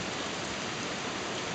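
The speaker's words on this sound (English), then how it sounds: "it's really starting to rain" Steady rain falls outdoors on a finished garden patio, a dense even hiss of drops at moderate level with no talk.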